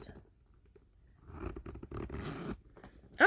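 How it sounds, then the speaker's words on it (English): Zipper on the side compartment of a Coach Signature Small Nina tote being drawn closed, a faint scraping run of about a second, quiet and close, with a soft rustle at the end. "Let's see how it zips."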